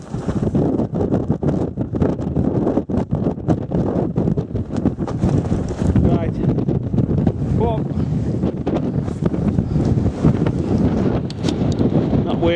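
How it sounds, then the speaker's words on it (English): Strong gusting wind on Coniston Old Man in the Lake District, roaring and buffeting the microphone continuously and loudly throughout, with a brief spoken word and a voice now and then under the rush. "Oh, it's windy"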